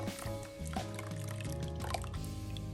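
Melted butter poured into a pot of sugar for a cassava cake, a close, soft liquid trickle with small drips and squishy pouring sounds over a few seconds.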